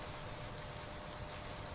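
Steady, soft rain falls evenly with a faint hiss throughout, no other sounds standing out.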